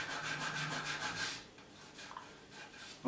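A coarse structuring pad rubbed across a ski base during P-tex repair makes a steady rasping scrub in repeated strokes, loud at first and then fading to quieter, sparser scraping.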